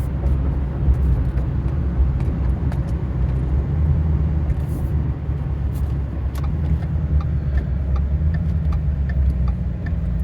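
A 2010 Ford F-150 Raptor pickup driving on the road, its engine rumbling loudly and steadily as the transmission shifts through gears, with a continuous low cabin drone throughout.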